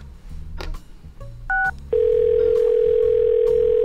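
A telephone has a brief two-tone dialing beep, then a steady loud dial tone that holds without a break, over low background rumble.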